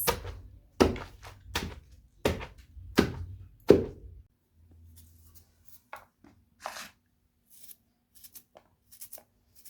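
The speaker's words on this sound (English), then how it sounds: "We use a mortar and a pestle for pounding our cassava" Cassava leaves pounded in a mortar with a pestle, about six heavy rhythmic thuds in the first four seconds, then scattered light taps and handling noises.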